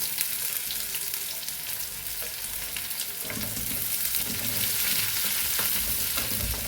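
Onions frying in a pan for a Rayalaseema bendakaya bajji dish, a constant close sizzle that swells as they are stirred, with no talking.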